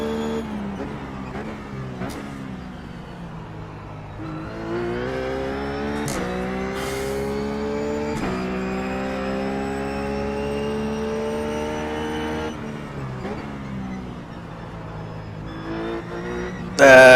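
Engine of a Ruf GT3 race car lapping Sebring in iRacing, a loud, steady high whine that climbs through the gears with brief shift dips, close and continuous, with a voice talking briefly.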